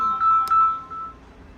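A mobile phone rings briefly indoors, a short steady electronic tone with a faint background and no speech over it.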